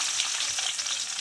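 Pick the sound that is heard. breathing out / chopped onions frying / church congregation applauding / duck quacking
chopped onions frying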